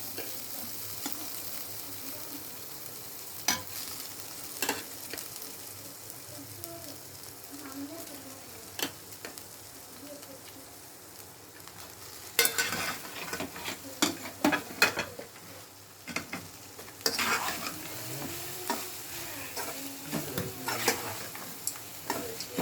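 Cooked rice mixed with masala for Chennai-style tamarind rice fries in a pan with a steady sizzle. Stirring and scraping grow louder and busier in the second half, and no voices are heard.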